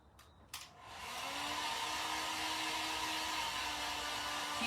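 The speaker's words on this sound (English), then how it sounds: "See if I can dry him up a little bit." A hair dryer blows on a wet handmade fabric bunny craft, starting after a couple of faint clicks and then running as a steady, fairly loud whoosh with a slight whine throughout.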